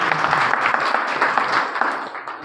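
A crowd at a product promotion meeting breaks into steady, dense applause, loud and sustained for a couple of seconds before easing slightly.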